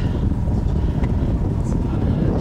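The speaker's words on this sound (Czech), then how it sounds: "Plujeme v podstatě na zadní vítr." A sailboat running downwind between Capraia and Elba, carried under a foresail and square-rigged sails, with steady broadband wind and rushing water filling the whole stretch at a constant, fairly loud level.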